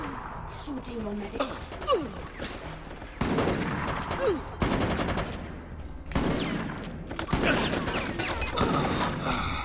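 Gunfire in the zombie shooter Resident Evil: Operation Raccoon City, with a shotgun among several sharp, loud blasts. The shots are scattered through a busy game mix of other weapons and crashes, with voices talking over it.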